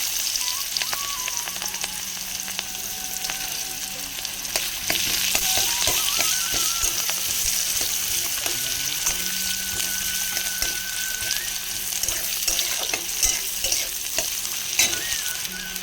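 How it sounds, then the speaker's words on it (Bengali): Chopped onions sizzle and fry steadily in oil already used to fry a rohu fish head, with occasional stirring scrapes and clinks from a spatula, continuous and close, no talking. "তেলটার মধ্যে আমি এতক্ষণ ধরে মাছ মাছের মাথাটা ভেজেছি সেই তেলের মধ্যেই আমি দিয়ে দিচ্ছি পেঁয়াজ কুচিগুলো"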